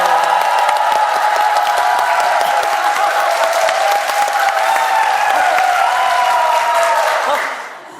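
A church congregation at Singal Central Church in Korea applauds and cheers loudly and steadily for about seven seconds, the crowd noise dense and close before it quickly fades out at the end.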